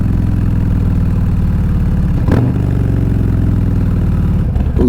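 Harley-Davidson Softail Low Rider S with a 131 Stage 4 engine and 2-into-2 exhaust idles steadily up close, a deep, loping V-twin rumble with a brief throttle blip midway.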